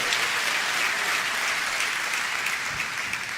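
A church congregation applauds in a steady, dense wash of clapping that continues evenly throughout, with no voices standing out.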